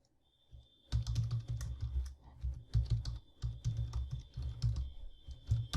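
Rapid, steady keystrokes on a computer keyboard while PHP code is written, close and fairly loud, with brief pauses between bursts after a quiet start; no speech.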